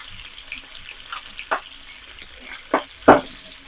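Carnitas pork frying in hot grease, a low steady sizzle broken by three sharp pops that grow louder toward the end, fat crackling close by with no talking.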